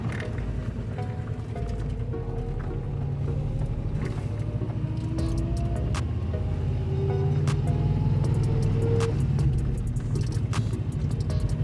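A Subaru Impreza GC8 wagon, a rallycross build project car on its first drive, rolls along with a steady low engine rumble and road noise, faint rattles and clicks scattered throughout.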